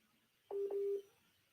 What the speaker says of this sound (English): real number quickly for us